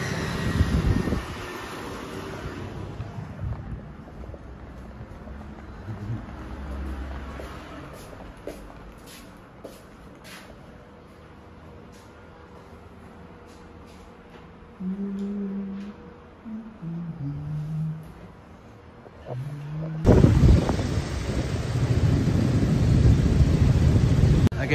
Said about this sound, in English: But the traffic is loud.